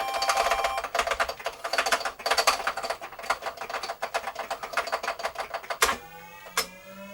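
Rapid clattering key presses on an MSX home computer keyboard during a game, a quick irregular run of clicks, with brief electronic game tones rising near the end.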